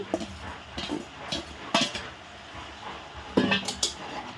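A spoon stirs labra, a Bengali mixed vegetable dish, in a pot, with scattered scraping clanks and knocks against metal between quieter pauses, close and moderately soft.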